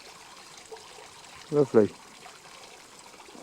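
A garden waterfall feature tied to a 14-zone Hunter irrigation system trickles as a soft steady background wash, with a brief spoken word over it near the middle.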